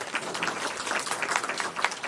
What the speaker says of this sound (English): I think we need to give her some round of applause there.